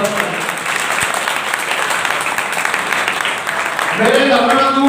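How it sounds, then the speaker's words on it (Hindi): An audience at a Buddhist temple gathering for a statue installation claps in steady, dense applause throughout, with a voice coming in over the clapping near the end. "सब तालियां बजा के प्रसादी लाल जी का स्वागत करें।"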